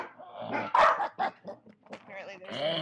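A dog barks and yips close by in a few short, sharp bursts, with a soft whimpering tone between them and no other sound around.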